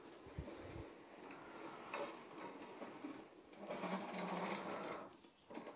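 A Bissell Sturdy Sweep manual carpet sweeper rolls over carpet strewn with cracker and biscuit crumbs, giving a continuous whirring, clattering brush-roll noise that swells and eases with each push, close by with no talk.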